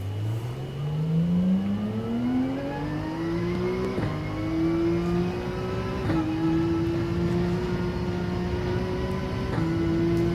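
Porsche race car engine in Gran Turismo 7 at the Red Bull Ring, loud and close, revving up through the gears with a rising whine and brief dips at each shift, no talking.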